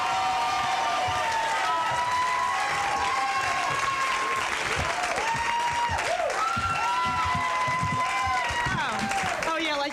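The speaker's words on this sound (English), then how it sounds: "Give her a big hand, Judith Currin." A comedy club audience applauds and cheers as a stand-up comedian takes the stage, a loud, dense wave of clapping with whoops and whistles running throughout, and voices shouting over it.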